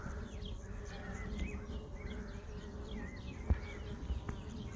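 Steady low buzzing from many honeybees on hive comb fills the clip, with a couple of brief soft clicks near the end.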